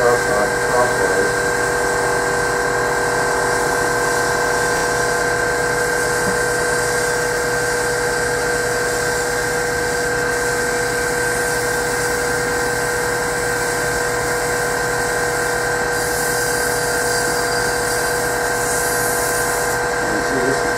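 Sandpaper held against a turned wooden Christmas ornament spinning on a lathe, under a loud steady whine of the running lathe that holds for the whole stretch, with a person talking over it.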